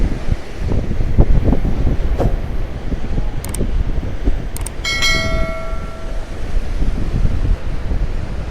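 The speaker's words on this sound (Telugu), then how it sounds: "అలలు ఎంత పెద్దగా వస్తున్నాయి" Loud wind buffets the microphone over a steady roar of big crashing Arabian Sea waves, with a brief ringing tone partway through.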